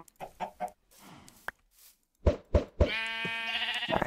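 Chickens in the video game Minecraft cluck in a few short, close bursts, with a sharp noise and a gap between them, followed by a louder, drawn-out bleating animal call.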